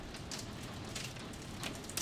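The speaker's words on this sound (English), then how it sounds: "It's hailing." Hail falls outside a window, a dense, even rattle of pellets striking surfaces with small sharper clusters of impacts, steady and moderately loud throughout, with no talking.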